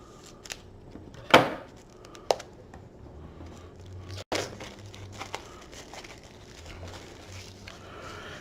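Scissors snip and cut through board game packaging, with a sharp crisp cut near the start, another smaller snip, and then crinkling and rustling of plastic wrap.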